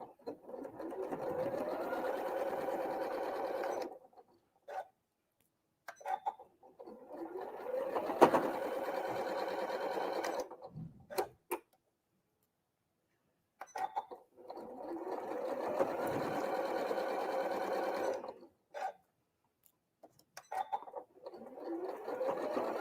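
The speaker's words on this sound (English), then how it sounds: "once you've got it pinned, you can sew that 1/4 inch down" A sewing machine stitches a quarter-inch seam on a quilt block, running in several long, steady bursts of rapid whirring separated by pauses.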